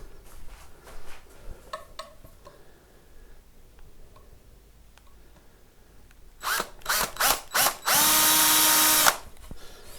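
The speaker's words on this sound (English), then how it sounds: "drill from the neck pocket through the pickup cavity into the neck pickup cavity" A long drill bit bores through the wood of a Telecaster guitar body, running from the neck pocket into the pickup cavity. After a quiet stretch, a few short, loud bursts of drilling give way to one sustained, close whine.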